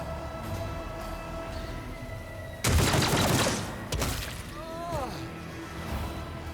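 A single loud blast of gunfire in Warhammer 40k Rogue Trader, about a second long, with a second, shorter report shortly after, set against a quiet hum and voices.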